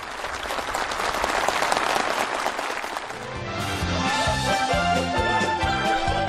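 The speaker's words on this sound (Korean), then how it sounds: "살림집 리용 허가증이 참가자들의 열렬한 박수 속에 전달됐습니다." Enthusiastic, steady applause from a gathering of officials, builders and farm workers at a ceremony handing over new housing permits, dense clapping that fades under background music.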